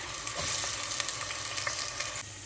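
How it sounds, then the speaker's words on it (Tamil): Onions sizzle steadily in hot oil, a close, continuous crackling fry with occasional stirring scrapes. "வெங்காயம் போடுறேன்"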